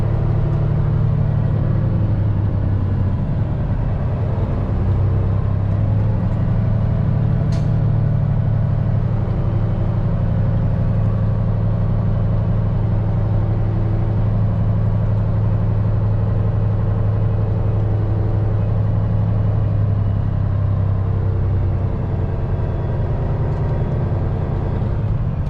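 A truck reverses slowly with a trailer, its engine holding a low, steady rumbling idle from close by for the whole stretch, with a brief click partway through and no talking.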